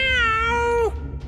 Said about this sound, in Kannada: ಬೆಕ್ಕಿನ ಸ್ವರ ಅಂದ್ರೆ ಮಧುರವಾದ ಧ್ವನಿ.